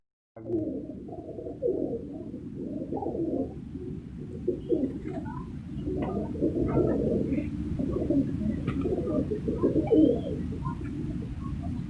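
Cooing of a breeding pair of Shirazi pigeons in a loft setup, a steady run of soft, low, rolling coos layered over one another, close and continuous with no talk.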